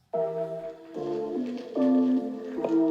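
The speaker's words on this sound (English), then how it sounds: "Here, I'll play a quick song for you guys." A song plays through M1 Pro MacBook Pro laptop speakers at max volume, tonal melodic notes shifting in steps, moderately loud with a slightly thin sound.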